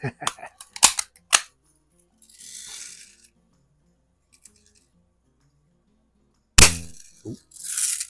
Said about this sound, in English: I can hear that BB inside the can.